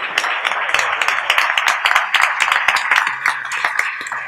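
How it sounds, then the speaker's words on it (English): Sustained audience applause for a panel at a talk event, dense and steady clapping that fills the room for several seconds with little variation. "Let's have a round of applause for our panel."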